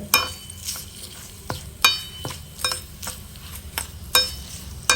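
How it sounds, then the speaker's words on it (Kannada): Mustard seeds and curry leaves frying in hot oil in an Indian home kitchen, a steady close crackle with sharp spoon-scrapes and metallic clinks every second or so, no voices. "ಸಾಸಿವೆ ಕಾಲು ಚಮಚದಷ್ಟು ಸಾಸಿವೆಗಳನ್ನು ಹಾಕ್ಕೊಳ್ತಾ ಇದ್ದೀನಿ ಚೆನ್ನಾಗಿ ಇದನ್ನು ಹುರ್ಕೊಳ್ಳೋಣ"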